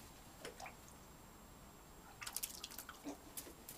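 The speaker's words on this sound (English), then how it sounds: "And Madison's in the bath." Crows splashing in a backyard bird bath: a few soft drips early, then a quick cluster of wet flicks and splashes, faint and close, with no talking.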